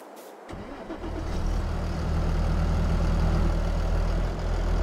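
A tractor engine in the Farming Simulator 22 video game, on the Toscana farm map, starts up and then runs in a steady, loud, low throbbing drone that fills the clip, with no voices over it.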